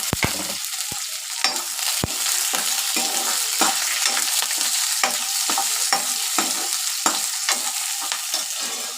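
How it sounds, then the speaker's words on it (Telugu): Onion and urad dal fry in a pan with a steady, close hiss of sizzling oil, broken by repeated sharp scrapes and taps as a spoon stirs them, with no voices. "కొద్దిగా ఉద్దిపప్పు వేసుకుంటాను ఆనియన్ వేసేసుకున్నాను ఒకసారి"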